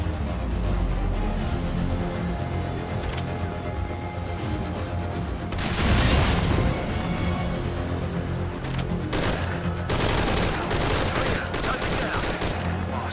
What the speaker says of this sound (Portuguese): Tem alguém me atirando aqui com dois gás.